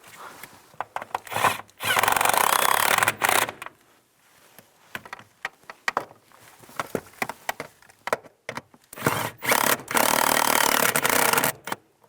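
A ratchet wrench tightens tow mirror mounting bolts on a 2015-2020 GMC Yukon: several loud, buzzing bursts of a few seconds each, separated by quieter stretches of sharp clicks and taps, close by and with no talking.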